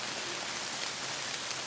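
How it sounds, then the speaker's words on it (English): Rain patters steadily through woodland during a wet bow hunt, a constant hiss of drops on leaves and rain gear, close and enveloping with no voices. "Rain, rain, go away."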